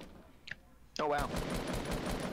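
Rapid bursts of automatic gunfire in a Fortnite Battle Royale match break out loudly after a short quieter stretch, with a brief voice cutting in near the start of the volley.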